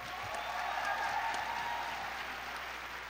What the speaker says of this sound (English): Please give our 2018 Star honorees one more round of applause.